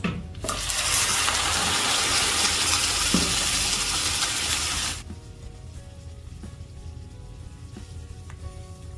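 A loud burst of hissing sizzle as a ground coconut-mint paste is poured into hot oil. It roars for about five seconds, then settles to a quieter steady frying.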